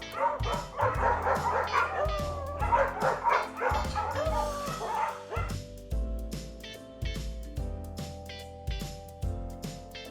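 A dog barks and yips repeatedly in quick, excited bursts, close and loud, with whimpering notes in between.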